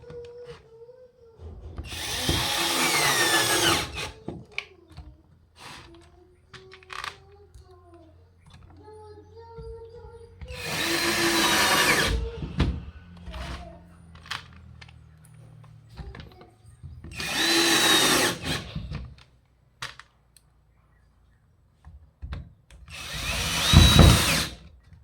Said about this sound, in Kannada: ಇದಕ್ಕೆ ಸ್ಕ್ರೂ ಹಾಕಿ ಬೋರ್ಡ್ನ ಫಿಟ್ಟಿಂಗ್ ಮಾಡಿಬಿಡಿ